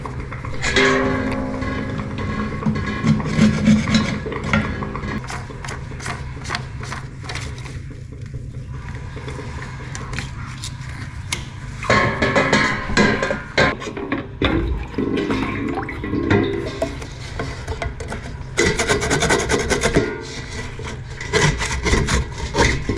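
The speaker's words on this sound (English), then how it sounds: "to clean these Urinal traps out, we're going to use the method of scraping with a screwdriver" A screwdriver scrapes out a blocked urinal trap in a washroom, giving repeated rough scraping and rubbing strokes with knocks, loud and close throughout.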